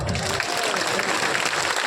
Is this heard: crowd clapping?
yes